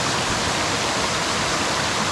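Forest stream water flows steadily and loudly in a continuous broad rush with no break, heard up close and alone at a camping spot on Namunukula.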